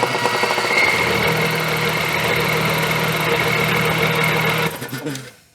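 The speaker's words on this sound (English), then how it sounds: "It's a 240 volt air compressor." A 5-horsepower 240-volt air compressor strains to start on an off-grid battery power station, its motor laboring with a loud, steady buzzing drone and rattling hum for several seconds before cutting out and winding down.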